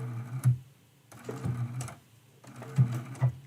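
A sewing machine stitches around a flower on a quilt, running in short close bursts with brief pauses between them, and no voices.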